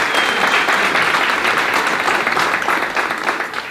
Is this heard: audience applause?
yes